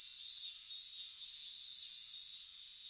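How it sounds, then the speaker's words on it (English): Cicadas drone under hot summer sunlight, a continuous, even, high-pitched buzzing that stays level throughout without pauses or voices. "Burning sunlight and the sound of cicadas."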